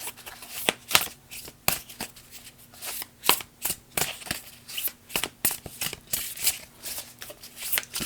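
Moonology oracle cards being shuffled by hand, a rapid riffling patter of crisp card flicks repeating steadily throughout, close and clear with no voices.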